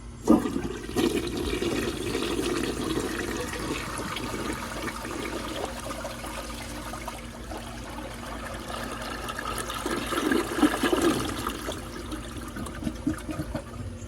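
A restored 1958 Standard Cadet toilet flushes with its tank full, giving a strong, steady rush of water that runs for about fourteen seconds, swells again near the end and trails off into trickling refill, with no talking.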